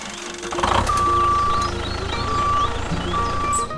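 A cartoon crane truck reverses with a steady engine rumble as its backup alarm sounds in long, evenly spaced beeps, loud and close.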